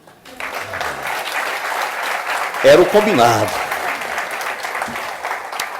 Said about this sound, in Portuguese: Eu esperava palmas para ele, viu?